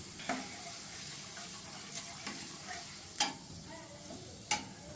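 Dahi chicken sautés in a pan at home with cumin, coriander, salt and turmeric nearby: a soft steady sizzle broken by a few sharp spatula taps and scrapes, with no talk.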